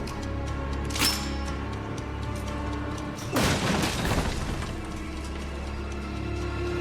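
A grenade explodes in Resident Evil 7, a heavy boom with a crackling tail over a constant low game rumble, preceded by a brief mechanical clank.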